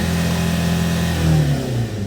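2005 Hyundai Santa Fe Gold diesel engine revs from close by, a loud steady rumble that rises briefly in pitch and then settles back.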